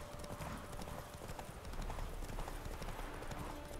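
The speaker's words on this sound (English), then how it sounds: "Oh, there's another horse up there." Rapid galloping hoofbeats from a horse racing in The Witcher 3: Wild Hunt, a steady, loud, continuous clatter over a dense game backdrop with no speech.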